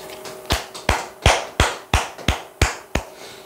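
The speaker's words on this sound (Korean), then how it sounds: "박수 한번 치시죠." Claps in a steady, evenly spaced rhythm, about nine in a row, crisp and close, with no talking.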